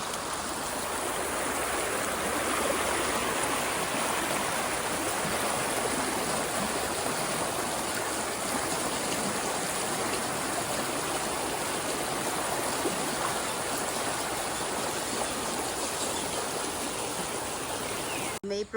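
Steady rushing flow of the Lagaslasan River, a continuous broadband wash of water that stays loud and even throughout with no talking.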